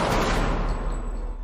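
Film gunfire in an action movie: a loud burst of shots with a sharp opening crack and a rolling, decaying boom, heard on its own without speech.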